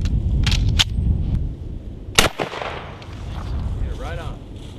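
Shotgun slugs slam into a bullet-resistant armor plate outdoors, a few sharp loud shots with echoing tails, followed by people talking.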